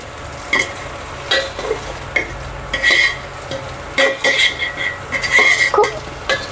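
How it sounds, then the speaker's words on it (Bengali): Green chilies and chui frying in a pan for khichuri, a loud close sizzle broken by repeated metal spatula scrapes and clanks against the pan as the mixture is stirred. "এটা আমরা হালকা ভাজি করে এর ভিতর পোলাও চাল দিয়ে ভেজে নেব"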